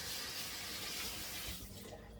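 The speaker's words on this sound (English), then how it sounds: "I just need to wash my hands" Running tap water splashes steadily while hands are washed underneath, a close, even hiss that thins out toward the end.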